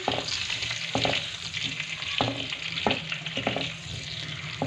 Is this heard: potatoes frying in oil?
yes